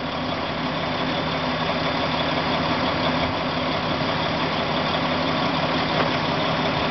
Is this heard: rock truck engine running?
yes